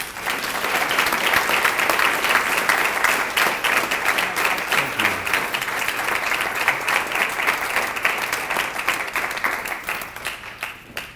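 Audience applause for an honoree at a 2019 distinguished alumni ceremony, a sustained round of many hands clapping that holds strong for about ten seconds before thinning slightly at the end.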